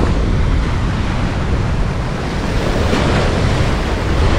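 Sea waves and wind at the beach of Pulau Merak Kecil island near Merak harbour, a steady loud broadband rush of surf with buffeting wind noise on the microphone and no talk.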